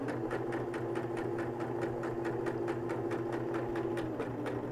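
A sewing machine stitches fabric for a beginner marble maze project, a steady rapid needle rhythm running continuously at close range and moderate loudness.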